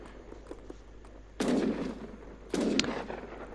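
Arquebusier gunfire in the Age of Empires 3 video game, two loud volleys of musket shots over a quieter bed of scattered battle clicks and distant shots, with no talk.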